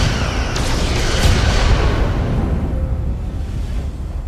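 Starship weapons fire in Star Trek: Resurgence lands as heavy booming blasts with deep rumbling low end, several hits crowding the first two seconds before a longer rolling decay.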